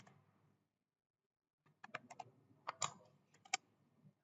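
A command being typed on a computer keyboard during a Zabbix install on Ubuntu: a short pause, then a quick uneven run of close, crisp key clicks with a few sharper taps.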